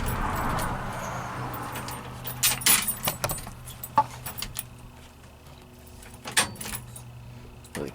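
Keys jangling near a 1976 Ford F-250 during instrument cluster work, several sharp metallic clinks and rattles in short bursts over quiet, low background noise, close and moderately loud.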